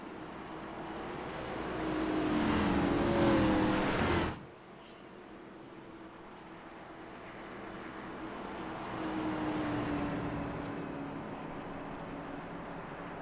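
Race cars circling Charlotte Motor Speedway behind the pace car: a broad, moderately loud engine roar from the pack that drops off sharply, then a fainter, steadier engine drone swelling again.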